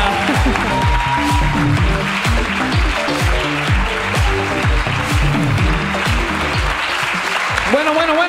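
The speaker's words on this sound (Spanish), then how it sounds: "¡Aplauso para Arnau!" Audience clapping for a guest named Arnau, steady and dense for the whole stretch, with voices mixed in underneath.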